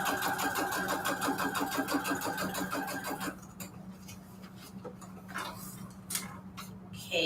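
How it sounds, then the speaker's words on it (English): A sewing machine runs a straight stitch with a rapid, even needle rhythm and motor hum for about three seconds, then stops, leaving faint handling clicks and rustles. "I do a straight stitch here."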